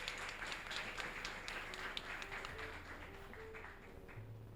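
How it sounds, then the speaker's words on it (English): Another round of applause for a panel at a school safety luncheon, a quiet, distant, steady patter of many hands clapping that slowly thins out. "can we give them another round of applause"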